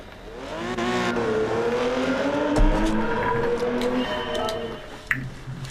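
A Porsche 917 race car in a racing video game drives at Daytona, its engine holding a steady high drone that climbs and shifts pitch through gear changes, fairly loud and continuous, with a brief sharp knock near the end.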